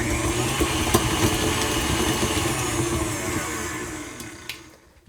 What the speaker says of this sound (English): I've got my butter in my stand mixer and I'm just going to cream it briefly